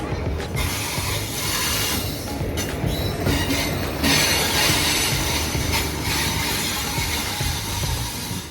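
A passenger train on the Kozhikode–Kannur line, riding in older non-LHB coaches, fills the space with a loud, steady rumble and rattling wheel clatter that never lets up.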